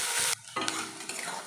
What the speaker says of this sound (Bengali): পেঁয়াজগুলো হালকা করে ভেজে নেব